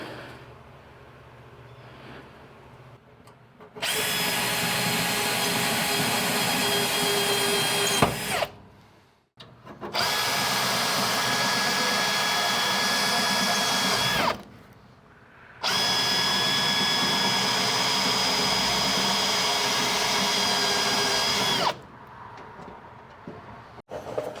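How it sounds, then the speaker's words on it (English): A power drill bores out spot welds on a rusty fender of a Ford Dentside truck bed. It runs in three long, loud, steady whining bursts with short silent pauses between them. The drilling is close and no one talks. "I think I got most of the underside spot welds drilled out."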